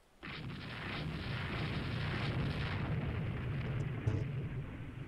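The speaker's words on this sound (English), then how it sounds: "And we took another torpedo" A torpedo strikes a warship in the naval strategy game Rule the Waves 3, bursting into a loud, rumbling explosion that holds as a sustained, roaring boom with no voices.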